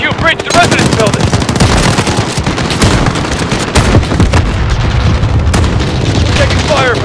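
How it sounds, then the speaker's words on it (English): Sustained gunfire in the Call of Duty MW4 campaign, dense rapid bursts of automatic weapons and booms crackling loudly for several seconds, with occasional shouted voices in the battle. "Taking fire from the residence."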